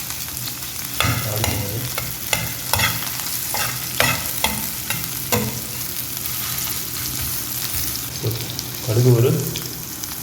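Onion and garlic fry in oil in a pan for a drumstick leaf and lentil kuzhambu. A loud sizzle runs throughout, broken by repeated rhythmic stirring scrapes, with brief speech in the background.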